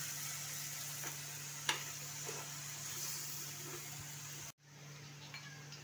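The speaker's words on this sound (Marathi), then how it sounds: "सर्व भाज्या मिक्स करून घेऊया।" Chopped vegetables for Bhogi bhaji being stirred in a hot pan: a steady close sizzle with soft scraping and occasional taps, then a sudden cut to quieter sizzling.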